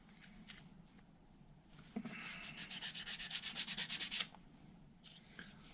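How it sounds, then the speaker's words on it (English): Corrosion being sanded off a Yanmar 3HM35F marine diesel engine with 240 grit sandpaper: close, rhythmic back-and-forth rasping strokes speed up into a quick run of about a dozen scrubs, then stop, with faint handling noise before and after. "This is a 240 grit sandpaper."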